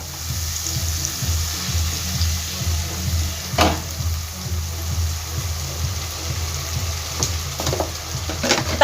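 Onion paste frying in a pan, a continuous close hiss and sizzle with occasional louder spatters and a few clinks of utensils, no talking.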